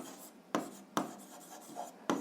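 Chalk or marker moves across a board in an algebra class, with a scratchy rubbing texture broken by three crisp knocks of the tool hitting the surface, near and heard alone.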